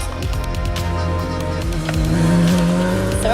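A Radical race car at a track day drives fast, its engine buzzing loud and steady with shifting pitch and a brief squeal of tires as it corners.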